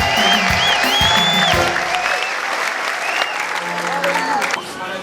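A church congregation at a gathering in Johannesburg, South Africa claps loudly and steadily to glorify the Lord, with cheering voices and singing mixed into the dense applause.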